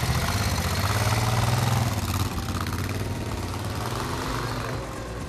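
A Moto Guzzi motorcycle engine runs steadily on a demo ride, a close, loud mechanical drone with a low throbbing pulse that eases slightly partway through.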